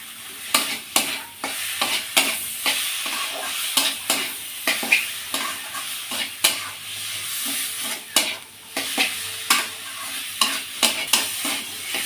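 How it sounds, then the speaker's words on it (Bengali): Shrimp tossed into sizzling masala with chopped banana flower in a pan, a steady fry under repeated sharp spatula scrapes and knocks in an uneven rhythm, close and clear. "মশলা আর মোটা দিয়ে আমি সুন্দর করে কষিয়ে নিয়েছি এবার আমি চিংড়ি মাছটা দিয়ে দেব"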